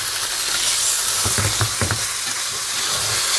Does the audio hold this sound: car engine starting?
no